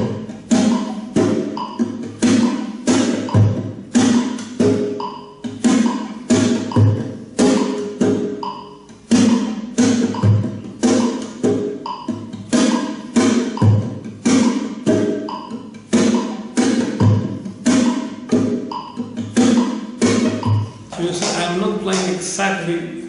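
Strummed guitar chords in a steady, slightly dragging rhythm, each percussive stroke landing a touch late, with a brief sustained chord at the end.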